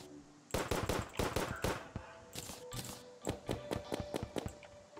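Rapid bursts of Unreal gun fire in the Terraria Thorium Mod, loud dense volleys of sharp repeating shots followed by a quicker, lighter series of pops.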